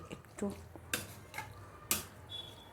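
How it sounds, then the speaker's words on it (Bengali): A spoon clinks and scrapes against a dish while ingredients are mixed with oregano, a few distinct knocks spaced about a second apart, quiet and close, with a faint voice in the background. "এটাকে মিশিয়ে নেব মিক্স করে নেব"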